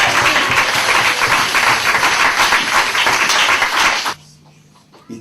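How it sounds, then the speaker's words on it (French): A church congregation bursts into loud, dense applause for Jesus Christ during a worship service, sustained clapping filling the room for about four seconds before cutting off abruptly into near quiet. "Est-ce que tu peux acclamer Jésus-Christ?"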